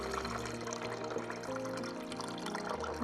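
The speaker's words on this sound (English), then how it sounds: "we are just going to fill this up with water until we get to that 0 line" Water from a kitchen sink poured into a bottle to fill a homemade rain gauge up to its zero line, a steady close gurgling pour that runs without a break and stays fairly quiet.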